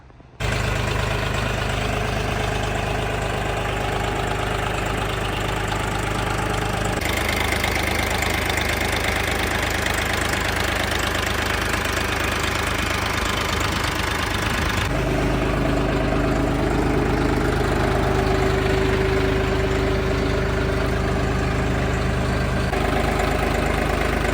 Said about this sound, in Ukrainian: Демонструю вам роботу двигуна